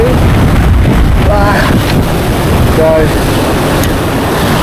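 Strong gusting wind buffets the microphone at an exposed fishing spot, a loud continuous low roar throughout, with a brief word of speech near the start.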